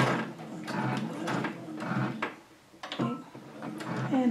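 A sewing machine stitches binding onto a placemat and runs a short back stitch, giving a steady, close mechanical whirring with rapid needle clatter that briefly eases off midway before resuming.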